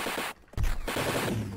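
Rapid gunfire from soldiers shooting at charging horses in the Amiga game North & South, a loud dense burst of shots with a short gap, then another sustained volley.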